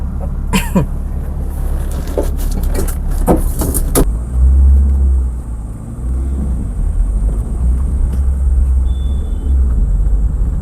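A Hyundai Santro's engine rumbles steadily from inside the car on a test drive, with a few sharp knocks and clicks early on.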